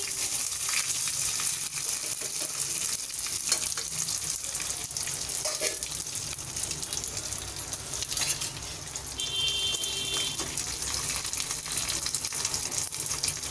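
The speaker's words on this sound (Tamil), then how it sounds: "நான் கடுகு உளுத்தம் பருப்பை ஆட் பண்ணுறேன். அது பொரியட்டும்." Mustard seeds and urad dal fry in hot oil for Chettinad mutton curry, a steady, close crackling sizzle that carries on throughout with faint popping and scattered kitchen clatter.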